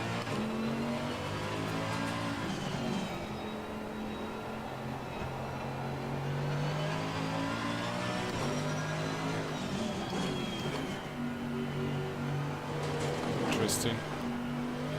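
A race car engine in the sim racing game Assetto Corsa Competizione at the Nürburgring, droning steadily with rising and falling revs through gear changes, continuous and moderately loud, while someone talks over it.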